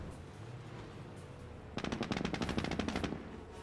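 A Jeep's machine gun in the video game Company of Heroes fires on Volks Grenadiers: after quiet ambience, a rapid rattling burst of about a dozen shots rings out for over a second, fairly near.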